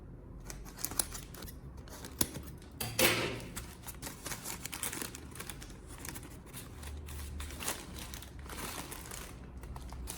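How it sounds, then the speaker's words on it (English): A plastic bag holding sweet potatoes being poked with small scissors or a knife: repeated crinkling rustles and sharp snips and clicks, close and fairly loud, irregular over about ten seconds. "You can use a small knife or scissors to poke a few small holes in the bag"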